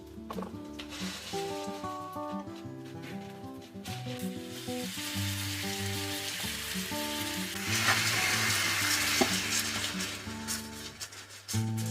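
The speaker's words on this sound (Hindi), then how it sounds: "पहले हम डालेंगे जो हमने फ्राई किया था आलू, और उसके साथ साथ हम डालेंगे मटन।" Fried potatoes and mutton hitting the pan for Odiya mutton kasha, a loud, continuous sizzle with stirring, under a sustained musical background, intensifying toward the end.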